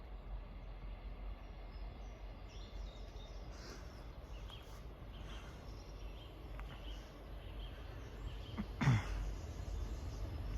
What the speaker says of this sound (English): Arriving in now is the 1019 Great Western Railway service from Cardiff Central to Penzance.